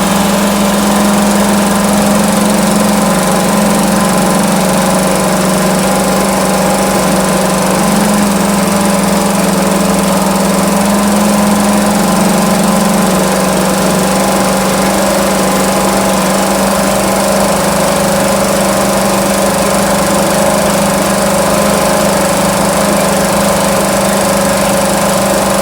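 A 1971 2 hp Johnson Mate outboard motor runs at wide-open throttle. It makes a loud, steady, buzzing drone close by that stays even and continuous throughout, with no voices.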